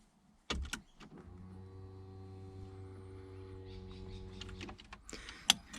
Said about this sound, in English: If you could hear that, you could hear the fuel pump, which is a good sign.